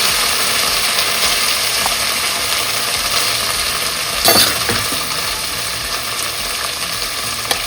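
Onions sautéing in a pan, a steady broad hiss of frying close by with a brief louder scrape midway, continuous and alone without talk.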